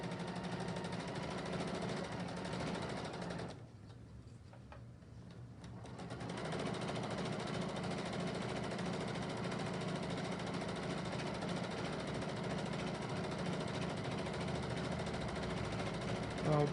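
A domestic sewing machine runs steadily during free motion quilting, a continuous close mechanical whir that drops briefly to a softer pause before resuming at the same even pace.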